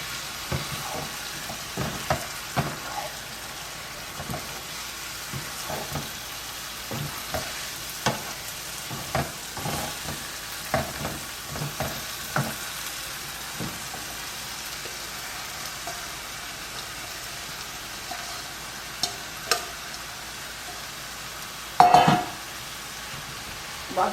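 Shredded cabbage sizzles softly in a pan over a low flame while a spatula stirs and turns it, giving scattered scraping clicks over a steady fry; one louder clatter comes near the end.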